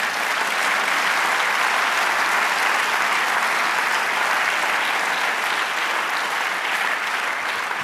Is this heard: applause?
yes